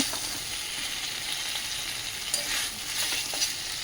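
Mixed vegetables with paneer and peas cooking dry in a covered pan, a continuous soft sizzle with a few sharper spatula clinks and scrapes, no talk.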